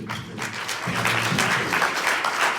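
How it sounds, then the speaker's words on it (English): Audience applause at a World Affairs Council talk, a dense wash of clapping that swells and holds for a few seconds, with no voice over it. "let's give a big round of applause to"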